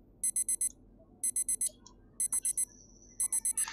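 An alarm clock rings from the game Doki Doki World of Dreams mod, four sharp bursts of rapid beeping that repeat in regular bursts of four, loud and close over a faint background.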